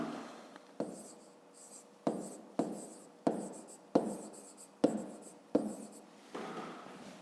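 A pen writes a math exercise solution on paper, giving a series of sharp scratching strokes that repeat about every second, each fading out, close and fairly quiet with no talk.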